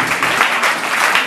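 A church congregation claps continuously through a short burst of applause during a Sunday service, fairly loud and dense with no break.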